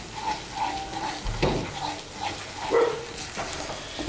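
Whisked sour yogurt gets stirred into an egg curry in a pan, with soft sizzling and scraping spoon strokes in irregular pulses, close up and moderately loud.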